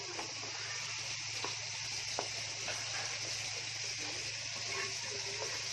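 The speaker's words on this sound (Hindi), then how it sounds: "एक इधर चिकन फ्राई हो रही है" Chicken frying in oil in a pan over a high gas flame, a steady broad sizzle running throughout with faint stirring clicks, close and even with no talk.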